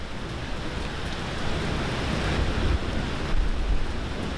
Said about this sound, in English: Our plan was to go to the amusement park today, but it has started raining.